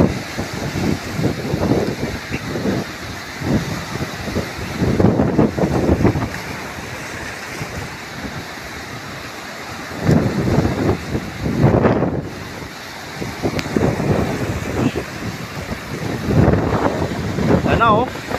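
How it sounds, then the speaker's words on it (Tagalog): Large ocean waves, around 10 meters high, crashing at the shore beside the speaker in bursts of rushing surf every few seconds, with strong wind buffeting the microphone and occasional voices. "Yung pagbagsak ng alon dito sa gilid oh."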